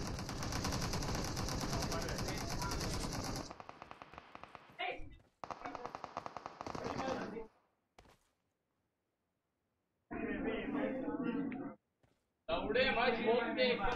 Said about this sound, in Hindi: ये गोलियां कहाँ मार रहे हैं भाई?